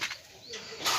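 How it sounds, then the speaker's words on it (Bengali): Breeding pigeons cooing in a pigeon loft, a short nearby coo with brief chirpy bird sounds around it, no talk. "আমার ব্রিডিং কবুতর এই যে"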